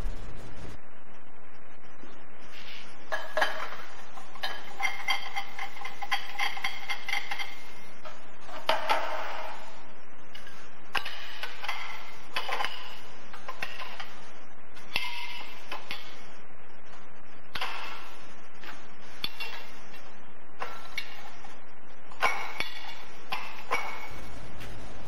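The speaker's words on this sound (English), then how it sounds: "For example, we are bending a chromoly tube 40x2." A GT tube bender working a 40x2 chromoly (25CrMo4) tube gives off steady mechanical clanks, ticks and metallic knocks over a continuous low hum, with no talking.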